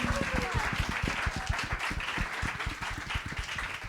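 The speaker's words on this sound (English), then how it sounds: "Okay, round of applause." Debate audience claps in a steady, even patter of many hands lasting a few seconds at moderate distance, with no voices heard.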